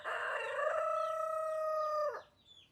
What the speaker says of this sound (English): Rooster is coming back. So they're like making these sounds